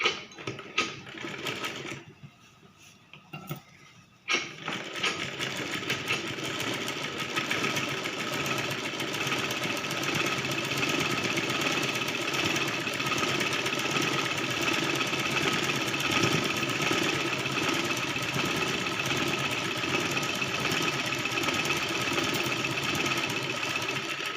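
A sewing machine stitches the hem of a baby skirt, a fast steady mechanical whirring that briefly pauses early on, then runs continuously and loud.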